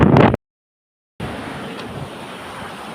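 Strong wind buffets a microphone at sea during a fishing trip, a loud rushing roar with a brief dropout, then steady gusting noise.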